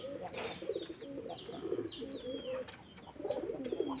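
Pigeons coo in soft repeated rolling phrases close by, during a racing-pigeon training session with birds being washed and cleaned, with low background noise and brief gaps between calls.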